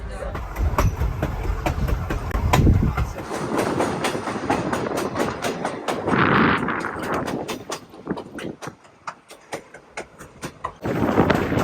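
Grand Canyon Railway passenger train rolling along, with rhythmic clickety-clack of wheels over rail joints and a rumbling low drone, fairly close and loud, with a brief burst of sound partway through.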